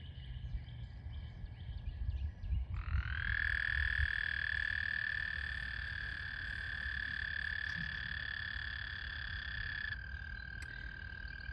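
The season's first frogs singing in spring, a loud sustained high-pitched trill that starts after a few seconds and carries on unbroken for about seven seconds over a low outdoor rumble before cutting off.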